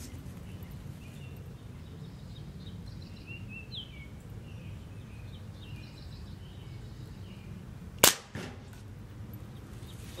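A pump air rifle charged with ten pumps fires a shock pellet at a hockey puck, giving one sharp, loud crack with a brief tail amid quiet outdoor ambience and faint distant birdsong.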